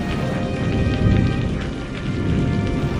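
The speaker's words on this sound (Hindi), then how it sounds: "धीरे धीरे बारिश हो रही थी।" Steady rain falls continuously, a dense hiss with soft patter throughout, no voices.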